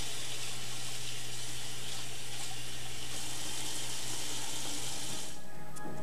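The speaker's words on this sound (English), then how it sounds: "and wash hands thoroughly." Tap water running steadily into a sink during handwashing after giving first aid, a loud continuous splashing rush that eases slightly toward the end.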